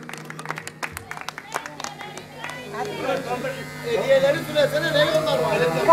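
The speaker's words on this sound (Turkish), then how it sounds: "Alkışlar gelsin rica ediyoruz" Applause rises at a family birthday celebration in Çanakçı, claps starting sparse and building into a denser, louder round under steady crowd chatter and talking.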